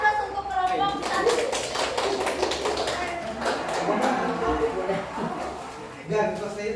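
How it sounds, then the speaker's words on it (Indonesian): Classroom applause for a group of students at an Indonesian madrasah, a few seconds of steady clapping from children mixed with chatter and voices throughout. "Kasih aplaus untuk kelompok tadi."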